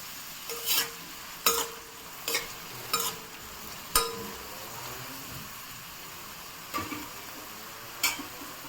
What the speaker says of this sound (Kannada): ಈರುಳ್ಳಿ ಬ್ರೌನ್ ಕಲರ್ ಆಗಿ ಹುರ್ಕೋಬೇಕು.